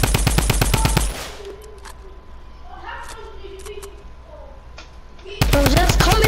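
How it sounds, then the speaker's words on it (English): Rapid bursts of video-game gunfire, loud machine-gun-like volleys at the start and again at the end, with a quieter stretch between where a voice talks over game sounds. "I'm shooting that one down, bro."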